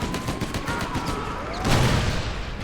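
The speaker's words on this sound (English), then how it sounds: "The destructive power of this cannon is really something." A cannon fires repeatedly in the Mercenaries 2: World in Flames video game, a rapid series of loud booming shots with a heavier blast near the end, no talking.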